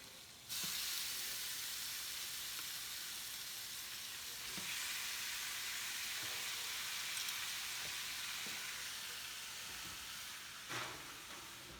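Steak fries in a hot pan with a steady, bright sizzle and hiss that runs continuously, broken by a few soft utensil taps against the pan.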